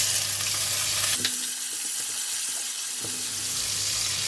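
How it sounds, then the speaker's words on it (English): Prawns go into a pan of browned garlic for Pattaya fried rice and hiss with a steady, fairly loud sizzle, with a few faint stirring clicks and no voices. "And I'm putting in the prawns."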